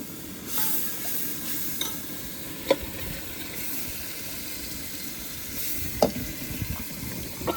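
Spices spluttering in hot oil while cooking vegetables on a boat, a steady close sizzle with a few sharp pops standing out, with no talking.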